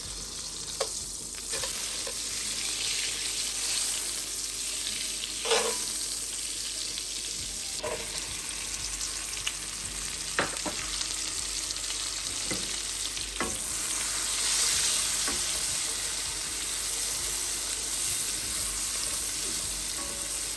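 Onion frying in a pan for a Samoan povi masima dish, with a soft continuous sizzle and occasional sharp clicks and scrapes from stirring, and no talking.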